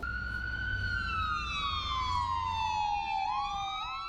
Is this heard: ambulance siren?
yes